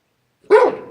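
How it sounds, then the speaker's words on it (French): A dog lets out a single short, loud bark outdoors near a mountain bike trail, preceded by silence. "Là il y a un chien, au calme."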